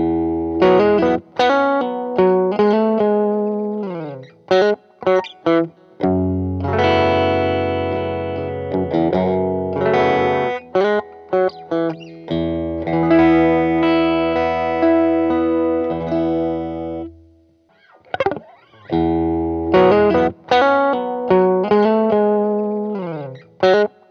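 A Vox Mini Superbeetle guitar amp, played first on a flat EQ setting and then on a deep one through its emulated speaker headphone output, carries distorted electric guitar chords and riffs, loud and continuous, with a brief pause near the end.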